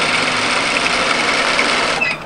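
A sewing machine stitches a turned-up hem directly through the overlocking line on a mid-length wrap cardigan, with a close, steady mechanical whir running almost the whole time before easing off at the end.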